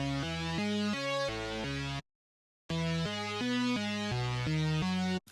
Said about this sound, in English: It's a saw wave and it's subtle enough to where it doesn't take up the main spot of a song.